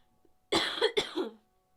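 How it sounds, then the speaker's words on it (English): A woman coughs close to the microphone in a quiet room, two or three harsh bursts in quick succession with a short throat-clearing tail, then silence. "I'm sorry, I'm about to cough again."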